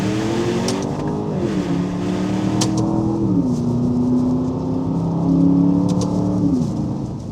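A 2021 Aston Martin DBX accelerating under automatic gearshifts, its steady engine note stepping down with each slow change, close and continuous with no talk.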